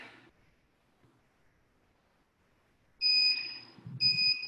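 An electronic alarm beeps in two high-pitched bursts after a quiet stretch, sharp and fairly loud, with a faint voice briefly at the start.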